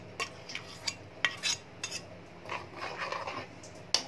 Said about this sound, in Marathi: अशा तऱ्हेने हे ढवळून घ्यायचं व्यवस्थित